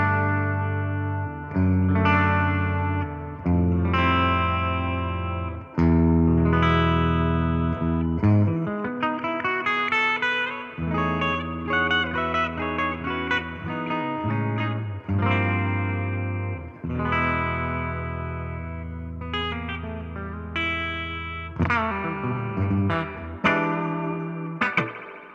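A Frank Brothers electric guitar on the bridge pickup plays a run of chords and single-note lines, bright and slightly driven, with no one talking over it.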